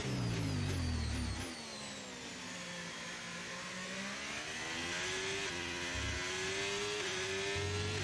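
An F1 car engine in the F1 25 game on a qualifying lap, the high whine dropping as it brakes, then climbing again through the gears under steady acceleration, loud and close with no talk.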